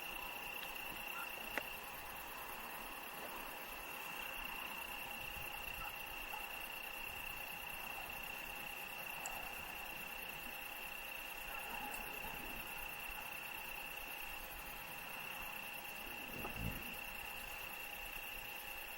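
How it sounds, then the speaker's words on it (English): Crickets chirp at night in the woods in a steady, continuous high trill that lasts throughout, with faint scattered insect and frog calls in a quiet background. "You can hear the crickets."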